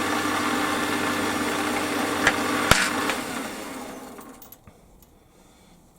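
A metal lathe parts off a small steel spacer ring, a steady mechanical hum and rumble with a couple of sharp clicks near the end before the motor winds down into near silence.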